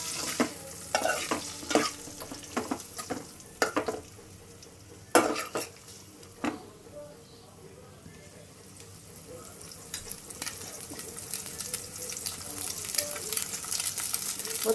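Egg rice is stirred as it fries in a pan, a spatula scraping and clinking in bursts over a soft, steady sizzle that grows a little louder toward the end.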